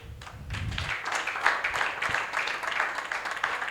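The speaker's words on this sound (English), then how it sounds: "The clap could be louder." Audience at a youth peace forum in the Niger Delta clapping to welcome a speaker to the stage, a steady dense patter of many hands that follows a brief low rumble and carries on evenly at moderate volume.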